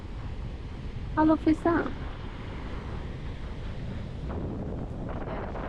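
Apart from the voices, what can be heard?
wind blowing at the seaside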